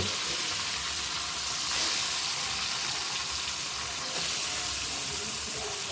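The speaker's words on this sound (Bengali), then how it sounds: "বাকি মাছের পিসগুলো আমি এইভাবে ভেজে নেব" Pieces of katla fish fry in hot oil with a loud, steady sizzle and crackle, and a couple of brief surges in the spitting. No one speaks over it.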